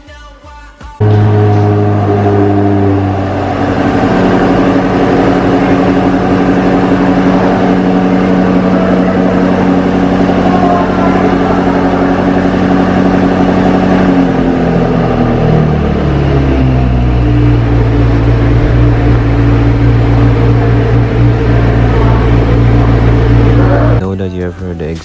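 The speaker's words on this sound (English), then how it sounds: "Enjoy the exhaust." A 2021 BMW X6 M Competition's exhaust idles with a deep, loud, steady rumble, then its pitch rises and falls through a couple of revs in the middle before settling back to a low idle.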